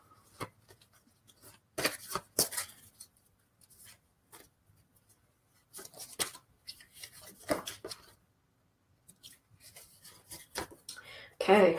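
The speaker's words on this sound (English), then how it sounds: "Shuffle, shuffle." A mythological oracle card deck being shuffled by hand, soft intermittent riffling and rubbing bursts separated by quiet gaps, fairly faint and close.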